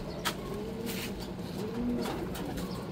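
A racing pigeon coos softly on arrival at the loft after a 403 km race from Matnog, Sorsogon, with low murmuring calls over steady outdoor background noise.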